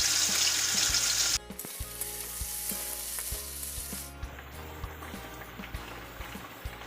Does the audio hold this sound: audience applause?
no